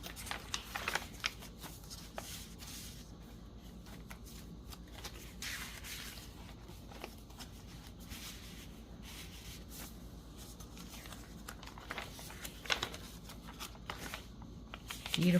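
Pages of a finished handmade paper journal, with pockets and doily paper, are flipped through up close. The soft rustling and papery flutters run continuously, with a few sharper page snaps and no talking.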